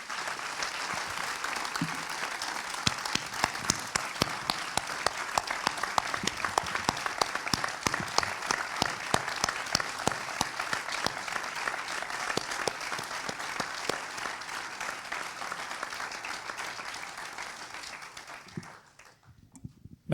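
A cinema audience applauds warmly to welcome guest filmmakers, dense steady clapping filling the room for nearly twenty seconds before fading out at the end.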